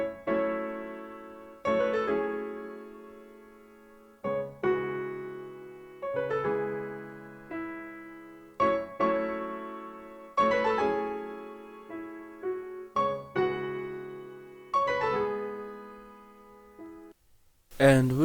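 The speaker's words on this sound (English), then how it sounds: "I also layered that piano with another piano from Piano Tech, and I also used the same preset as the last video, which is YC5" Two layered pianos, one a Piano Tech instrument on the YC5 preset, play sustained chords with a little melody on top, each chord struck cleanly and left to ring and decay.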